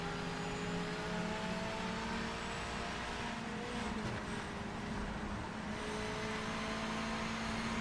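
A Mazda MX-5 race car engine in the racing game Project Motor Racing, a constant droning engine note with shifting tones, steady and loud from start to finish.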